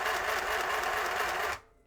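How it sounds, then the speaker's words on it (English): A small mini sewing machine running at high speed, a loud steady whirring buzz with a fast needle rhythm that stops abruptly near the end, leaving a faint hum. "It's kind of loud and it's a little slow, but I'm on slow speed, so let's speed it up. Let's go high speed."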